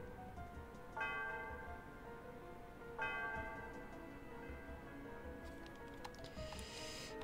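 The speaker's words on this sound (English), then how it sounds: "Celestia Tower. Yes, please. I like the sound of the bell." A bell tolls at Celestia Tower in Pokemon Black, two clear, ringing strikes about two seconds apart over soft game background music, each fading slowly.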